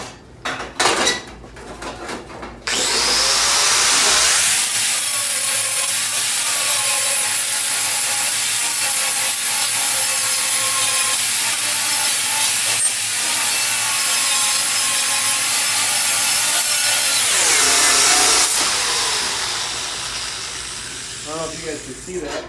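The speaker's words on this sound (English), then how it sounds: "I think I'm going to clean all this paint off before I cut the strip." A tool grinds and scrapes old orange paint off the steel bed of a Chevy C20 pickup, making a loud, continuous abrasive whine for about fourteen seconds, with clanks and handling noises before and after.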